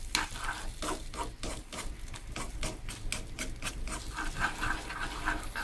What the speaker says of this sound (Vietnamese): khuấy sơ sơ nó để cho cái trứng này nó hơi vón cục một xíu thôi